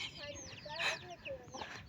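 Chickens cluck and squawk close by in quick, irregular bursts, with a louder squawk in the middle.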